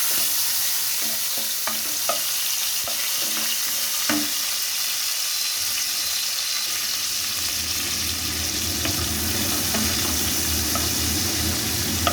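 Chopped tomato is stirred into banana flower frying in a pan. A steady, loud sizzle runs throughout, with scattered spoon scrapes early on and the frying growing denser and more even later.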